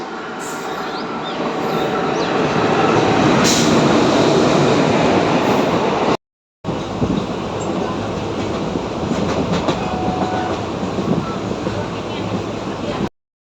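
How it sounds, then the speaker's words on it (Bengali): A train pulls into Bazarsau station in West Bengal, a loud, steady rumble of wheels and carriages with clattering rail noise, broken by a brief gap partway through; people speak faintly under the din. "দেখতে পাচ্ছ ট্রেন আসছে"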